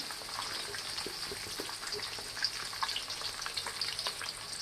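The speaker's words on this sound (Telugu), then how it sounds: "ఇవి వేసేసుకొని బాగా వేపేసుకున్నాం." Onion and garlic frying in a pan, a soft steady sizzle with scattered crackles and pops, fairly quiet and alone without talk.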